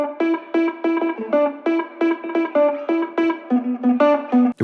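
Funky, staccato lead guitar line from an Ample Sound virtual instrument, picked with palm-muted notes for a summery lo-fi boom bap beat; short clipped notes in a busy, bouncing rhythm, played alone and up close.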